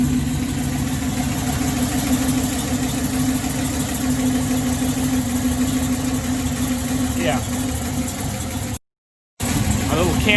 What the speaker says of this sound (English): You can hear that tick in the idle.